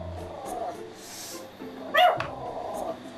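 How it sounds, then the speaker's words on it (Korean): A dog in a home it shares with a cat lets out a few scattered barks and yips, one sharp close bark standing out, over quiet room tone. "어디서 개가 짖는다냥?"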